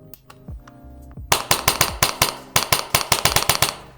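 Wolverine MTW Fossil Dig1 airsoft rifle fed by a standard EPM magazine: a few single shots first, then two rapid full-auto bursts of sharp, evenly spaced cracks, close and loud with no talking.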